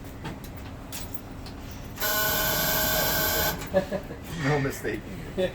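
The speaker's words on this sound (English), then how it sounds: "Just in case the doors are open and you drive, you'll hear a loud buzzing noise saying," Loud steady electronic buzzing alarm from a Toyota RAV4 warning that a door is open while driving, sounding continuously for about a second and a half between stretches of talk.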